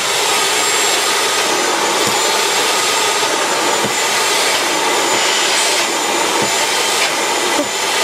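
A cheap household vacuum cleaner runs steadily and loudly throughout, its broadband whine and roar cleaning a floor mat with no talk over it.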